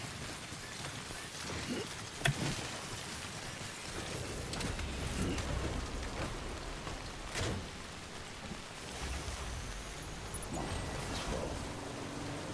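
Steady rain in the video game Death Stranding falls as a dense, continuous hiss with occasional low rumbles and thuds, fairly faint and without voices.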